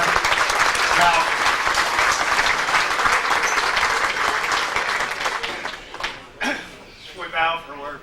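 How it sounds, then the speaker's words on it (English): Banquet audience at a high school sports hall of fame dinner applauds loudly and steadily for about six seconds, then the clapping thins and fades as voices murmur near the end. "Let's give a nice round of applause for Mr. Hauser."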